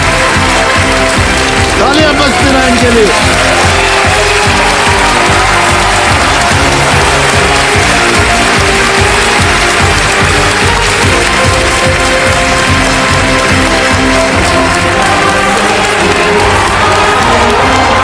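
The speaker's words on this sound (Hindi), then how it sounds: "तालियां बजती रहें इनके लिए।" Studio audience of a televised quiz show in Hindi applauds and cheers for a winning contestant, loud dense crowd noise sustained throughout, with a host's voice speaking over it.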